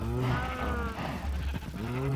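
Video-game cows low and bleat in several overlapping drawn-out calls, fairly close and continuous, heard on their own without any talking.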